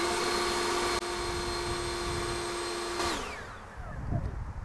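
A Greenworks leaf blower runs on turbo, a loud steady whine with a strong constant tone that winds down and fades after about three seconds, leaving softer rumbling noise.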